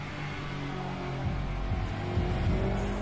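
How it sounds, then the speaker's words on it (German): Idling car in the garage of the video game Need for Speed Underground 2, a steady low engine rumble with a slight swell in revs partway through, continuous and close. "hörst du, dass dein Auto in der Garage auch ab und zu hier ein paar Sounds macht."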